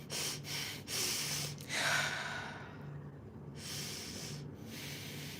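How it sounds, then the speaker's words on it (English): A person with Covid breathing laboredly, several sharp gasping inhales and heavy exhales in an uneven rhythm, close to the microphone with no talking. "Why is it getting hard to breathe?"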